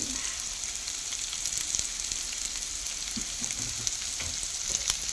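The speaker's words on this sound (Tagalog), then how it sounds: "Parang i-stir fry ko lang sila." Tofu, capsicum and spring onions are stir-fried in a pan: a constant bright sizzle up close, punctuated by a few soft spatula knocks and shuffles, with nobody speaking.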